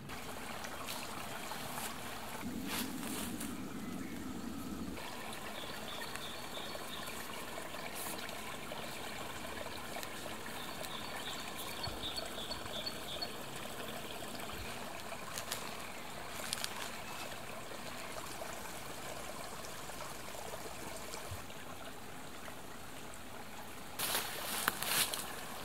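A forest creek flows steadily at night, a continuous broadband trickle and babble of water that holds the whole stretch with no talk, a brief low burst near the start and a brighter splash toward the end.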